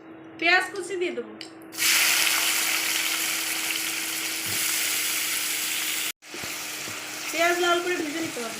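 Chopped onion hits hot oil already spiced with cinnamon and cardamom, where fish were just fried, bursting into a loud, sustained hiss that drops out for a moment and resumes, with speech before and after.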